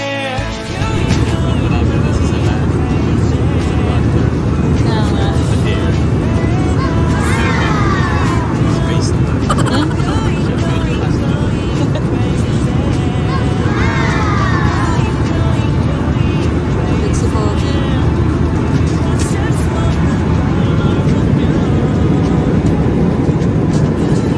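Cabin of an airliner in flight on a trip back to Canada, a loud, constant low roar of engines and airflow filling the whole stretch, with scattered voices and a child's chatter faintly over it.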